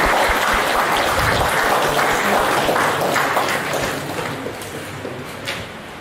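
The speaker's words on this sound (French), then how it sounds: "vous méritez tout autant des applaudissements" Conference audience at a cybersecurity event in France applauding, a dense, steady wash of clapping filling the room and tapering slightly toward the end.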